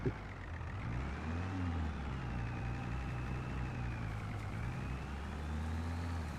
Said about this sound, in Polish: trzeba po prostu cofnąć się i kołem od ciągnika tą dziurę jak gdyby rozplaszczyć, rozwałować